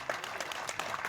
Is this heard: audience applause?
yes